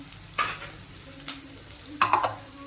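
Chopped capsicum stirred in a frying pan for restaurant-style chilli chicken, with a few short, loud bursts of scraping and sizzle against a quiet background.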